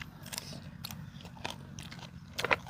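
Boiled apple snails are bitten and chewed up close, giving repeated small crunches and wet scraping bites, with a sharper crunch near the end.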